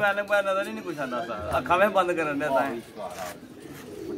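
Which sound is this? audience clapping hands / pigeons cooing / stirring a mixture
pigeons cooing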